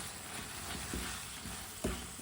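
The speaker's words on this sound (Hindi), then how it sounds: "तेज आंच पर इसे 2 मिनट के लिए भून लेंगे, पका लेंगे 2 मिनट के लिए।" Potatoes, turnips and garlic fry over high heat in a pan, giving a steady close sizzle with two brief stirring knocks, no voices.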